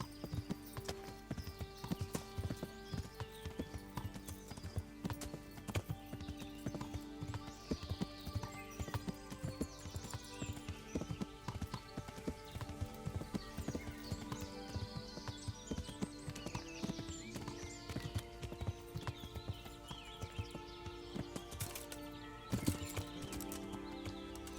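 Rapid hoofbeats clip-clop in a steady galloping rhythm in the video game Kingdom Come: Deliverance, with occasional horse whinnies over a faint musical backdrop.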